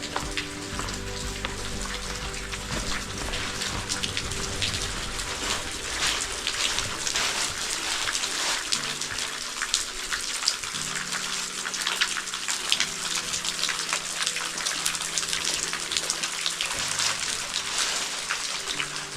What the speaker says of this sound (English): Water dripping down.